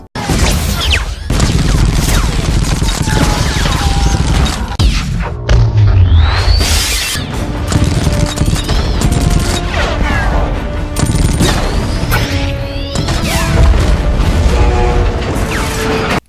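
Gunfire effects of people shooting each other fill a dense, loud crime-film action scene, with crashes, booms and whooshes throughout.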